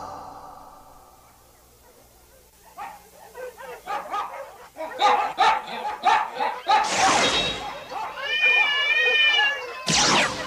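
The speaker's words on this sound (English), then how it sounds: "Damn dogs. They won't stop barking." Dogs barking in a 1990s anime episode: a run of close, repeated barks builds after a quiet start, joined by whiny yelping and a rising wail, with another burst of barking at the end.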